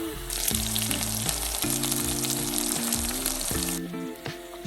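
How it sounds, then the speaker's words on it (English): Meat sears in a hot pan, browning on each side, giving a loud, continuous close-up sizzle and crackle that holds steady before easing slightly near the end. "We're gonna cook these for about 3 to 5 minutes on each side, just enough to get them brown"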